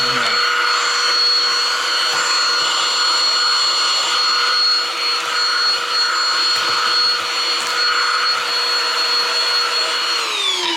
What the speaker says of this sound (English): so we're done vacuuming